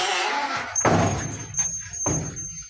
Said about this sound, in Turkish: Bu köy kapı gıcırtısı köyü hatırlatıyor bana.